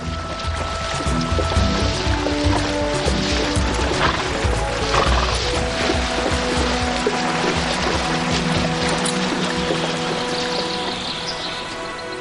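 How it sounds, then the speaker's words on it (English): Horses whinny and snort while hooves clop unevenly nearby, mixed with rustling and splashing movement outdoors in remote, rugged Russian terrain of waterways and hills. "They rely heavily on their horses for covering this remote and rugged terrain."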